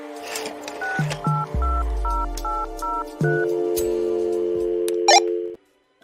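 A Martian's space phone in a cartoon dials out as a short run of bright electronic beeping tones, evenly spaced and clear, over a low synthetic hum, ending in silence, with no talk.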